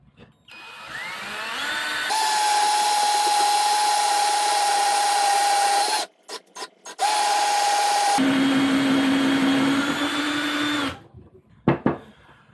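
A power drill bores out a rack hub to a one-inch diameter, whining loudly and steadily in two long runs with a brief stop and restart between them, then shifting to a lower pitch before cutting off, with a few clunks at the end.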